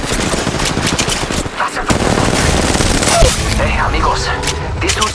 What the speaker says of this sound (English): They're shooting at me! Shooting!